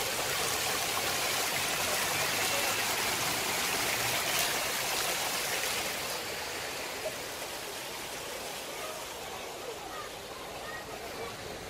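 Flowing water rushes steadily as a broad, constant hiss, loud and close at first and then slightly softer, recorded outdoors on a Samsung S9+ or Google Pixel 2 phone.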